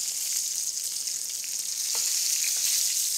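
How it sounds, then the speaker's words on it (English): Lamb chops browning in a hot pan give off a loud, steady, dense sizzle that carries on unbroken throughout, with a few faint pops and crackles rising out of it. "we're browning and we're browning"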